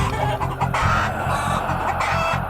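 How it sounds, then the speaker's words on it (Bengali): A group of chickens clucks in a rapid, repeating pattern, agitated and close, with the calls overlapping in a steady rhythm. "মুরগিগুলো এরকম ভাবে ডাকছে কেন?"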